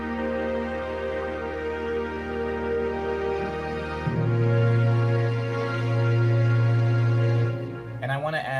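A chopped piano part sits against a newly added string part, the strings swelling into long, thick sustained chords midway while the piano texture pulses above; loud, steady, and free of speech.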